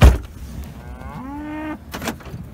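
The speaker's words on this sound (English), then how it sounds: "Looks like I got another cow calving over there." A cow on a cattle farm during calving season gives a single drawn-out moo of about a second, fairly close and clear, after a sharp knock at the start, with quiet outdoor background around it.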